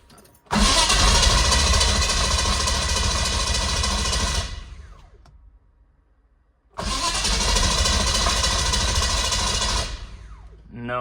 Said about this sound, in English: Let's try starting it just to see if all the injector power and everything's working.